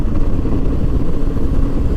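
Adventure motorcycle riding along a twisty mountain road in eastern Europe, its engine droning steadily and loudly with continuous low rumble and wind throughout, no talking.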